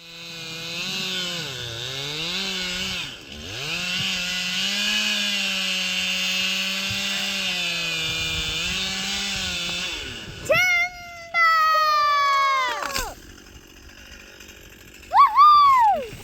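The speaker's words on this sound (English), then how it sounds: "or I can go get a chainsaw and cut the tree down" Chainsaw cutting down a dead tree in remote Alaska, with the engine running loud and steady for about ten seconds, then revving and bogging in short bursts with pauses between them.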